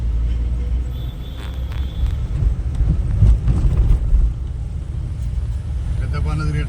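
Night traffic crawls through a jam as cars and motorbikes rumble past at midnight, a steady low engine drone with wind buffeting and a faint horn-like tone, no voices heard.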